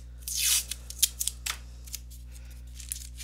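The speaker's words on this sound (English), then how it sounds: "And I'm going to tape this down." Tape pulled off a roll and torn while fixing a drawing down onto paper: one long ripping peel followed by a quick tear and a few light taps and presses, close and alone over a steady low hum.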